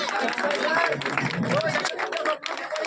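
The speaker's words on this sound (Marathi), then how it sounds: "जोरदार टाळ्या होते" Applause and cheering from an audience at a birthday celebration, a dense, steady wash of clapping that runs throughout, with voices talking and calling out over it.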